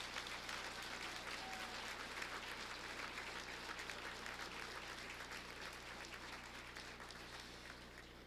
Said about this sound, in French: On les applaudit à nouveau,